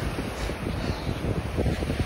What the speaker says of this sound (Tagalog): sobrang lakas na hangin tsaka alon